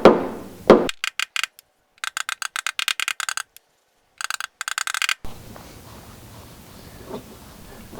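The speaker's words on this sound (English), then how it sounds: "we're just going to tap those down just a little bit more" Tapping down high spots on a car body panel during small paint-damage repair, a loud burst of rapid sharp metallic taps in clustered rhythmic runs separated by short pauses, then fading into quiet workshop rustle.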